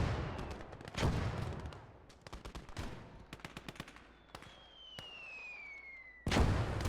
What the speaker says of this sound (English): That mortar's kicking ass.